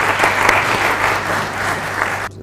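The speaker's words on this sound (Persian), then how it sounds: "بله تشویقشون بفرمایید." An audience at a live comedy and dubsmash show claps loudly and steadily, a dense burst of applause that stops abruptly at the end.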